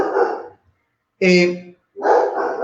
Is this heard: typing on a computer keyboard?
no